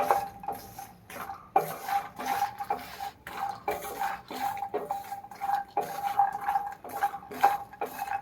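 Makhana (fox nuts) fried in ghee in a pan over the flame, with a spoon stirring and scraping against the metal in repeated clinks and scrapes at close range. No talking is heard.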